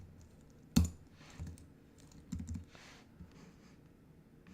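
Keys clatter on a computer keyboard in a quiet room, with a sharp louder tap near the start followed by a few softer scattered keystrokes.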